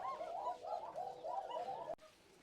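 A Shalik pigeon coos close by in a soft repeating series of rolling, throaty coos that stop abruptly near the end, leaving a quiet background.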